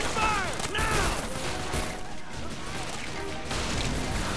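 Faces of War, a WWII video game: a tank is blown up amid an Omaha Beach battle, with dense rumbling gunfire and crashing impacts throughout, and shouting game voices layered over the combat noise.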